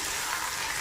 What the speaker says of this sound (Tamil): இப்போ எண்ணெயிலேயே ஒரு நிமிஷம் வதக்கிக்கலாம்.